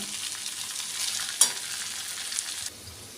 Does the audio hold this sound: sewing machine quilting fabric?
no